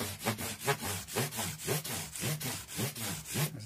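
Guitar frets on a blue Squier Affinity Stratocaster being polished with fine-grit abrasive, a close, steady back-and-forth rubbing in regular strokes, roughly two per second, with no talking.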